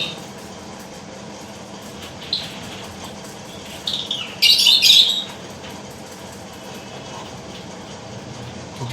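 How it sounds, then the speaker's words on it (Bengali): Lovebirds kept in a colony cage give a few faint scattered chirps and then a brief burst of louder chirping and squawking against a steady background hiss. "তবে পাখির কিচিরমিচির আওয়াজটা কিন্তু দারুণ লাগে"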